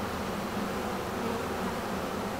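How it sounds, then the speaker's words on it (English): A steady, dense buzzing of many honey bees around a hive box, continuous and fairly close, with no pauses and no voices. "there are still bees around the outside"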